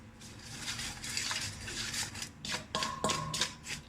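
A utensil stirs a dry spice mix of cinnamon, garlic, onion powder, paprika and salt in a bowl, giving irregular scraping and clinking strokes, close up, with a few sharper metallic taps near the end.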